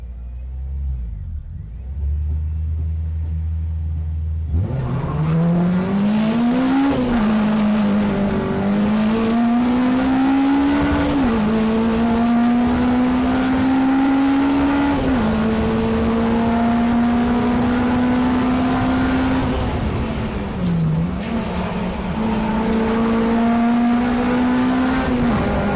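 Honda race motorcycles screaming away from a standing start at Snetterton circuit, a loud rising engine note climbing through repeated gear changes, several bikes blending together up close and continuous throughout.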